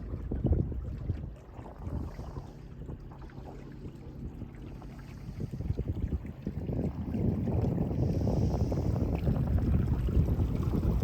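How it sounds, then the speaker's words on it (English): A motorboat crosses Flagstaff Lake, heard from a small sailboat: a broad, low engine rumble with wind buffeting that swells noticeably louder in the second half as the boat draws nearer. "Oh, and some motorboat's got to come ruin it."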